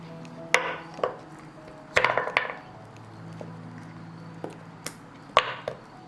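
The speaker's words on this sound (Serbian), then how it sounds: "evo, kocke su se zaledile i sada ću ih izvući" Frozen turmeric ice cubes crack and pop out of a plastic ice cube tray in a handful of sharp, close knocks and clatters, spaced irregularly over a few seconds, with no voices.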